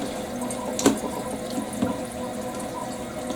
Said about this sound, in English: I'm going to fill up the water thing